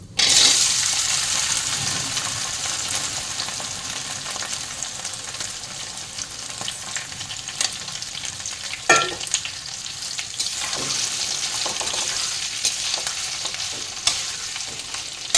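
Potatoes fry in a pan after dried red chilli, half a bay leaf and asafoetida went into the oil, giving a steady close sizzle with scraping stirs and one sharper clatter midway, with no talk.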